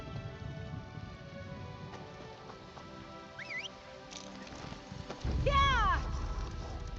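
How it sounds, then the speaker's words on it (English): Steady rain patter in the Elder Scrolls Online game world, a constant soft hiss running throughout, with brief chirping calls and a louder rush of noise in the last couple of seconds. "Cool sky. Rainy."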